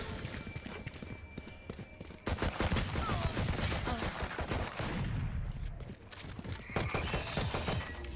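Rapid gunfire from the Valorant video game crackles in dense bursts of repeated shots, loud and continuous throughout, with a voice faintly audible underneath.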